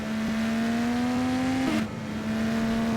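An IndyCar race car engine from a racing game mod hums at a steady high pitch, rising slowly, with a brief rough stutter near the middle, loud and continuous with no talk.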